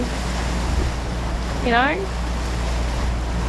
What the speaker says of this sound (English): Apart from the engines being on, which you can hear, I'm sure.